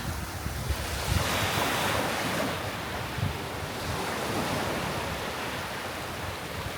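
Ocean waves and surf wash continuously along the shore of Koh Kood island, Thailand, a broad steady roar mixed with wind buffeting the microphone.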